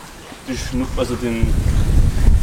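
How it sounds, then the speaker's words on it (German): Strong wind buffets the microphone while people fish from a boat, a low rumbling roar that builds and persists beneath a voice talking up close. "Da der Wind recht stark ist"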